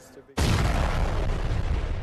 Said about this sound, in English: Israel's standard procedure destroy facilities like this with a controlled explosion